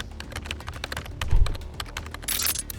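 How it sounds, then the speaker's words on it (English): Rapid typing on a computer keyboard, a dense stream of close, crisp key clicks in quick irregular bursts, with a few heavier thumps, alone without any talk. "his fingers fly across the keyboard"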